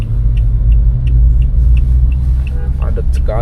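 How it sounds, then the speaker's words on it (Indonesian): Deep, continuous rumble of heavy traffic full of large trucks on Ahmad Yani road in Semarang, heard from inside a vehicle. The engine drone is loud and steady, with brief higher tones near the end. "Padat sekali, seperti hari truk sedunia. Truknya rame, gede-gede."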